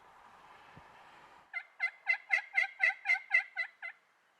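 A wild turkey in Western Oregon lets out one rapid, rolling gobble of about ten quick pulses, clear and moderately close, after a faint stretch of hissing background noise.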